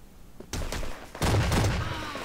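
Rapid bursts of fire from the 687 gun in a submarine-map shooter match, two volleys about a second apart, loud and sharp, with a dense rattling second burst and a faint ringing tail.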